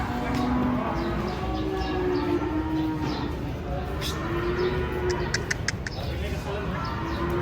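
A giant cow moos repeatedly while being unloaded from a truck, long low calls rising over a noisy yard with people talking and clattering around it.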